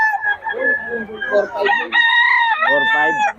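Chickens and roosters at Bocaue, with loud, close cock-a-doodle-doo crows and clucking, one long crow ringing out clearly near the end.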